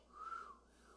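A person makes a short, faint attempt at whistling, one thin sustained tone lasting under a second, alone and quiet.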